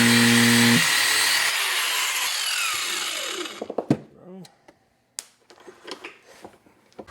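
A cut-off wheel bites into a stud clamped in a vise, producing a loud steady grinding whine that winds down after a few seconds, followed by scattered metallic clicks and knocks.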